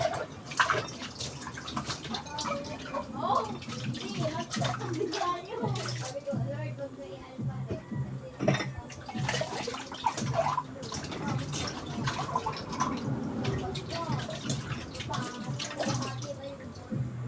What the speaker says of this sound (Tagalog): Ang hugas ng plato.